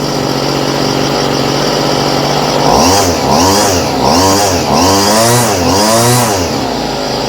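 A cheap weed whacker engine, its carburetor just adjusted, buzzes at a steady, loud idle, then revs up and down in several rising and falling pulses, close by.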